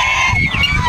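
A Bourbon Red turkey on a backyard farm gives loud, close honking calls, a few harsh gobbling notes in quick succession.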